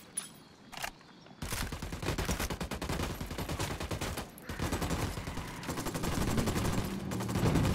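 Sustained automatic gunfire from a squad in the video game Ghost Recon Wildlands, a dense, continuous fusillade of rapid overlapping shots that starts abruptly and stays loud to the end.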